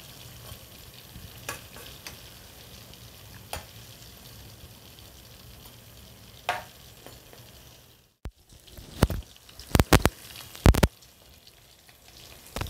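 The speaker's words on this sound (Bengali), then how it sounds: "এবার আমি এগুলো এক এক করে ভেজে নেব।" Fish fingers frying in hot oil in a wok, a soft steady sizzle with scattered crackles, then sharper clattering bursts as the pieces are turned.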